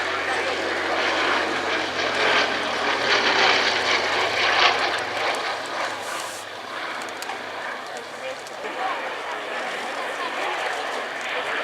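A Boulton Paul Defiant wartime fighter flies past at an airshow, its propeller engine a steady, fairly loud drone that swells and eases slightly throughout, with a voice speaking over it.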